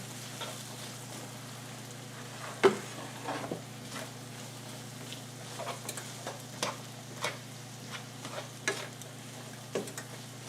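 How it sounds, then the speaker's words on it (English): Garlic and onion frying in a pan for a German pork and sauerkraut casserole, a soft steady sizzle under a low hum, with scattered clicks and scrapes from stirring. "throw the garlic in. Try to break up the onion."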